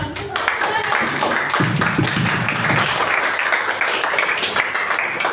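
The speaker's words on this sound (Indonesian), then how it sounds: "Kasih aplaus." Classroom applause from a group of students, steady clapping sustained throughout, with voices murmuring underneath.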